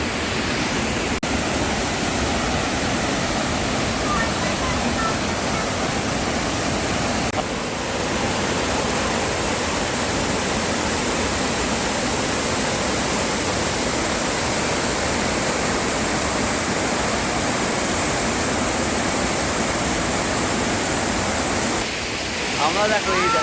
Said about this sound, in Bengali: এই ঝর্ণাটার নাম দশম ফল।